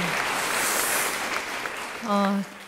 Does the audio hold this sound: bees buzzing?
no